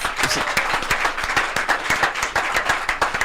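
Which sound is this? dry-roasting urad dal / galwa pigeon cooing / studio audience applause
studio audience applause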